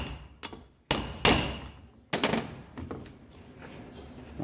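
Several sharp metallic hammer strikes on a wheel bearing ring out close by, two or three heavy blows spaced irregularly, each leaving a short ringing decay.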